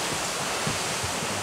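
Strong wind from tropical storm Senyar roars as a steady, dense broadband rush, loud and continuous like surf, with no clear talk over it.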